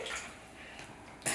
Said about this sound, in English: Now we pour in the water.